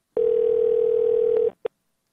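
Telephone dial tone after a caller hangs up on a call-in radio show: one steady, loud tone lasting over a second, then a short beep. No talking.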